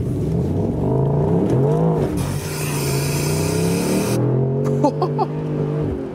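A Mercedes-AMG SL 63 in Sport Plus mode accelerates hard, its engine note climbing through rising revs with a gear change midway, loud and close from inside the car.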